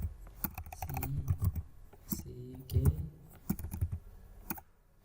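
Computer keyboard typing in short bursts of clicks and taps, close and fairly quiet, with quiet murmured speech-like sounds between the keystrokes.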